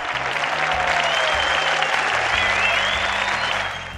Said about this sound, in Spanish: Aplausos, por favor, para Alida.